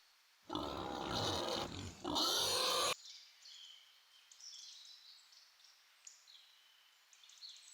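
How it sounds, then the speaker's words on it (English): A pig grunts in a loud, rough burst of squealing grunts lasting about two seconds, close to the microphone. Faint bird chirps follow in the quiet afterward. "Pig."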